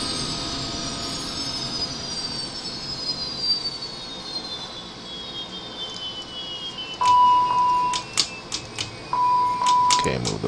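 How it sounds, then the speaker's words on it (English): Jet engines of a simulated airliner in Flight Simulator 2004 winding down, a steady whine gliding lower in pitch, joined later by short cockpit beeps and clicks. "Let's go ahead and power this thing down. Kill the engines."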